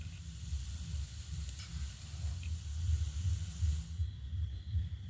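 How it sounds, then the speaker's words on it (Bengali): Crisp snacks deep-frying in hot oil, a continuous bubbling hiss with a low rumbling churn that swells slightly partway through, close and steady with no voices. "একইভাবে বাকিগুলো ভেজে নেব।"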